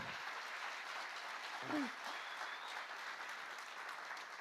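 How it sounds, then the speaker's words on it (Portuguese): A congregation applauding steadily in a large church room during a worship service, the clapping sustained and even throughout, with a brief voice near the middle. "Pode aplaudir ao Senhor."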